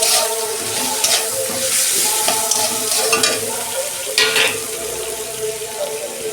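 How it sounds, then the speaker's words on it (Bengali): Ginger, onion and tomato sauté in a hot pan with a steady sizzle, while a utensil stirs and scrapes in repeated strokes close by. "এই যে আদা, পেঁয়াজ আর টমেটো আমার কষানো হয়ে গেছে"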